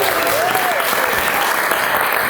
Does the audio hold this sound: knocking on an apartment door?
no